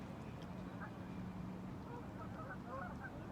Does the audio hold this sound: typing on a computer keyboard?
no